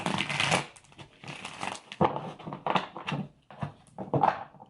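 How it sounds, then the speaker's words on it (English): A deck of tarot cards is shuffled by hand in quick rustling bursts of riffling and flapping, separated by short pauses, close up and without speech. "I'm gonna shuffle one more time though."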